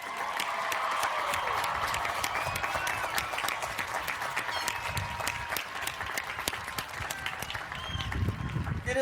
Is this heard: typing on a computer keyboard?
no